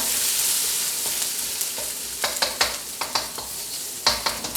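Special fried rice sizzles loudly in a wok at home, with a steady hiss of hot oil and a rapid run of sharp spits and pops as it is stirred and tossed.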